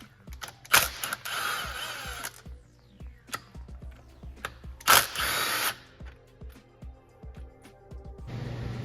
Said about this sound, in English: I gotta pull these two fasteners out of there.